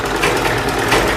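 Sewing machine stitching piping onto a blouse, a steady continuous whir running without pause through the short moment.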